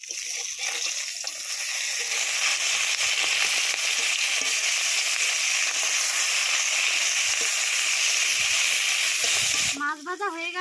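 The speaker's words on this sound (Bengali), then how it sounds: "পেঁয়াজ ভালোভাবে ভেজে নেবো" Onions frying in a pan for a Bengali water rice thali give a loud, steady sizzle that fills almost the whole clip, then break off near the end as a voice speaks briefly.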